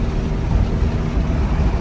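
Steady road and wind roar inside a car cruising on a highway at 75 with a homemade roof rack on top in windy conditions, a dense low rumble without a break.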